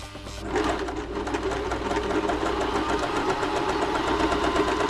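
A Bernette b35 sewing machine being serviced runs a straight stitch, a loud steady motorized whir with rapid needle clatter that starts abruptly and continues without pause, no voices.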